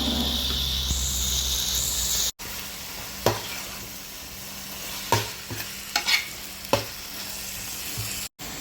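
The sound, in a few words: chicken stirred with masala spices in a frying pan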